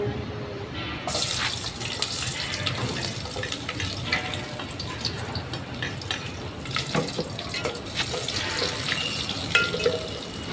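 Tap water runs steadily into a kitchen sink while vegetables such as garlic and chili are washed under the stream, a continuous close splashing rush with small shifts in the flow.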